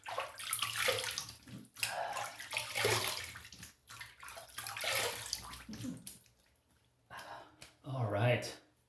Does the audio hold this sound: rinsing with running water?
yes